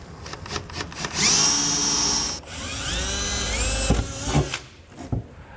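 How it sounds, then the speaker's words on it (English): A power drill bores a hole through the bed of a 2022 Ram 2500 truck during installation of a custom base rails kit, with a loud whining motor that rises and falls in pitch over several seconds. "So center up your hole and get to drilling."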